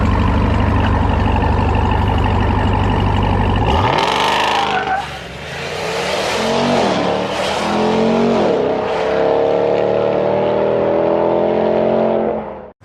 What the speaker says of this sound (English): He wants a celebratory revving of your TRX.